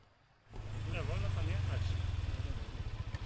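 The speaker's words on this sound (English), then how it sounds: "We motor across the bridge" A motorcycle rides across a bridge in the Thai jungle, its engine rising from quiet to a steady, close, throbbing drone, with a rhythmic pulsing toward the end and faint chirps overhead.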